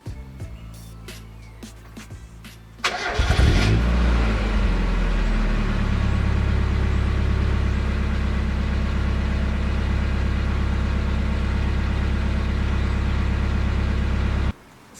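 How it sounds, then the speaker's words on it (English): A Mazda MX-5 saved from scrapping cranks briefly, catches at around three seconds and settles into a steady, loud idle nearby, the even engine drone running unbroken until it cuts off near the end. "The car does actually start and run really nicely."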